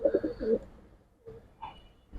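Giribaz and silver pigeons coo close by in a few short soft bursts near the start, followed by quieter scattered coos and a louder one at the end.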